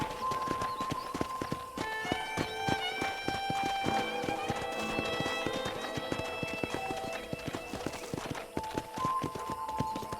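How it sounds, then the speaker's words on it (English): Rhythmic clip-clop of horse hooves trotting steadily in the video game Red Dead Redemption, with a bright melodic music track playing over them; no voices. "let's see if you can still ride a horse"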